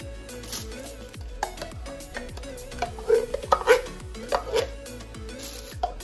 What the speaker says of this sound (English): I'm gonna add a can of diced tomatoes